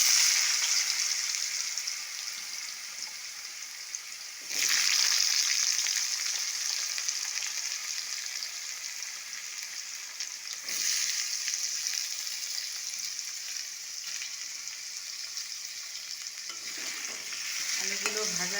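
Potatoes tipped into hot oil tempered with spices fry with a continuous, bright sizzle. Louder bursts of stirring and scraping come twice, and the crackle stays close throughout.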